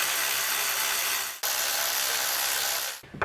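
A ratchet spins down valve cover bolts on a 2003-2006 Acura MDX engine, a loud, rapid continuous clicking buzz in two close bursts separated by a brief pause, with no talk.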